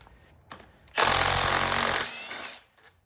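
An impact wrench rattles hard in one loud, continuous burst of about a second, loosening overtightened bolts on the harmonic balancer of a 408ci small-block Chevy, with a few short clicks before and a tapering whir after.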